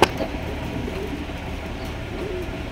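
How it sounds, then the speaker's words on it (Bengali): Lahori pigeons coo softly amid the steady background hum of a pigeon market, with low, rolling calls repeating faintly through the murmur. "এখানে রয়েছে আরো একজোড়া আপনার লাউড়ি কবুতর"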